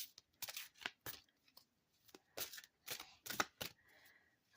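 Quick bursts of cards being shuffled, crisp riffling snaps repeating in short irregular bouts, close and fairly quiet with brief pauses between.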